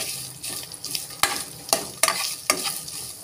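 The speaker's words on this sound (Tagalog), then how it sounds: "Ayan, prito ko muna saglit." Tinapa (smoked fish) fries in a little oil with a soft, steady sizzle, broken by several sharp scraping stirs and pan knocks close up, with no voices.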